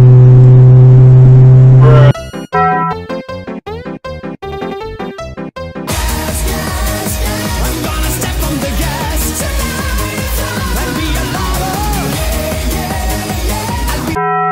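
Several people take turns imitating car engines with their voices in an online game chat: a choppy burst of revving noises, then a dense, overlapping chorus of sustained vroom sounds that stays loud to the end.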